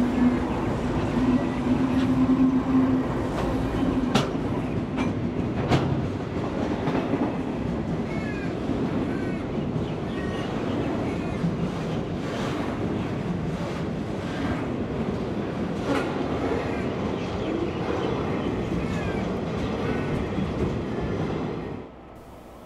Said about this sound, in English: a freight train makes its way through